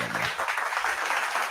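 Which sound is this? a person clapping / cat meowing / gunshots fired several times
a person clapping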